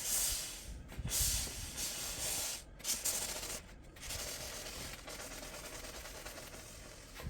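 A steam iron held above a spot on a mattress gives off a continuous close hiss of steam, fluctuating slightly with a few brief breaks.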